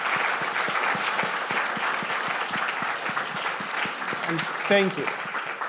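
Audience applause for alumni standing at a startup funding event, steady clapping from a room-sized crowd throughout, with a short spoken thanks near the end.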